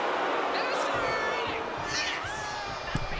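Crowd cheering in a wrestling arena at WWE Survivor Series WarGames, a steady roar of many voices with scattered whistles and thumps, heard under a commentator's talk.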